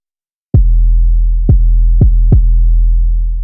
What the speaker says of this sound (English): here's a regular plain 808